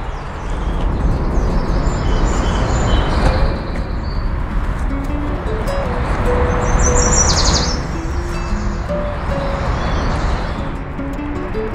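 Small birds chirp and trill on and off over a steady roar of highway traffic close by, on a quiet natural spot beside a Montreal autoroute.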